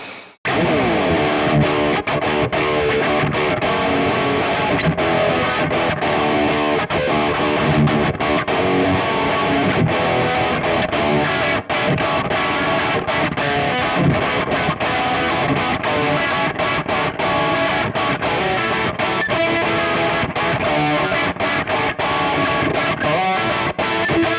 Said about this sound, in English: Now this is my heavy rhythm sound.